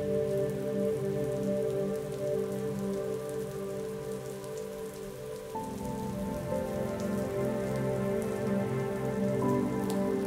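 Steady rain falls on a surface, a continuous, even hiss that never lets up, layered with sustained tonal hums throughout.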